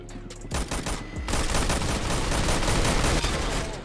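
Rapid pistol gunfire in the Roblox game Mad City, a dense, loud fusillade of overlapping shots that runs nearly continuously for about four seconds with no talk over it.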